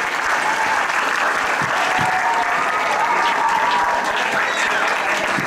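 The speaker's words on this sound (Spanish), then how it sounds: "Un aplauso para el profesor José Alfredo Molano." A large crowd at a school event gives a teacher sustained, loud applause, the dense clapping filling the whole stretch at an even level without letup.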